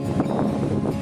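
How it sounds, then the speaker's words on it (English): Spring wind at the Stony River near Isabella, Minnesota, a short burst of low, gusty rumble buffeting the microphone, fairly loud and continuous with no speech. "A little bit windy today."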